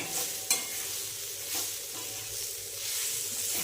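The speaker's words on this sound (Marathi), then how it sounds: "छान मिक्स करून घेऊया. भाजी अशी चांगली एकजीव होत आहे." Vegetables being stirred in an iron pan, giving a soft continuous sizzle with a few sharp scraping knocks of the spatula, close and alone without any voices.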